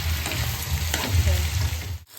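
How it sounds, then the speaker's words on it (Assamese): Chopped onions and tomatoes fry in oil in a pan, giving a steady close sizzling hiss with faint stirring scrapes, ending abruptly. "এতিয়া ভালকৈ ভাজিব লাগিব"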